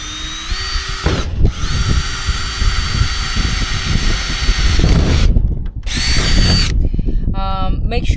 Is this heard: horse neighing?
no